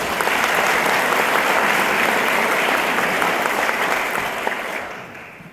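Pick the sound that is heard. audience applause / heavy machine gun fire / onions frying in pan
audience applause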